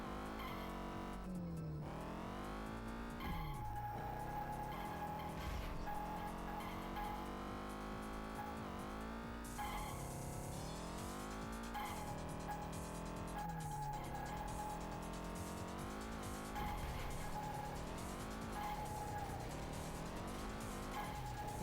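A race car screams through San Francisco Rush: The Rock, its loud engine note climbing and dropping with repeated gear shifts, plus occasional tire squeal, continuous and close.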